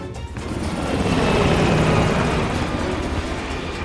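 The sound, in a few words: helicopter flying away in Call of Duty Cold War video game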